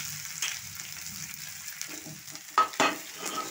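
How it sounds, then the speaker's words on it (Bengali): Garlic and onion fry in hot oil with nigella seeds, a quiet steady sizzle broken by a couple of sharp stirring scrapes near the end. "এইগুলো প্রথমে আমি লাল লাল করে একটু ভেজে নেব"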